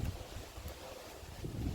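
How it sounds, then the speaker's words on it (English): Wind gusting outdoors near a covered porch, a brief, steady rumbling buffet of air against the microphone with no voices. "But it is windy."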